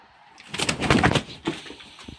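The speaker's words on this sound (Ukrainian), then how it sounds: "Це індичка злякалася кошеня." A turkey hen startled by a kitten on a farm at night lets out a sudden burst of flustered gobbling and squawks, loud and close, followed by a few shorter startled calls.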